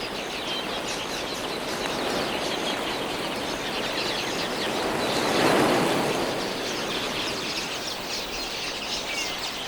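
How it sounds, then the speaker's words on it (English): A huge flock of red-billed quelea finches gathers at a drying water pan in Botswana. Their dense, continuous chirping and wing rush hold steady throughout and swell briefly midway, with no voices. "Some of the smaller pans are already drying up when thousands of finches flock in to drink."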